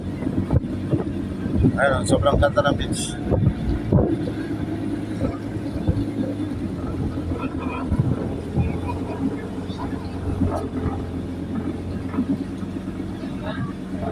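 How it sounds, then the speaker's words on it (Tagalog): Gusty wind buffets the microphone with a constant low rumble in El Nido, Palawan, while a person speaks briefly over it near the start. "Medyo malakas ang hangin, ha?"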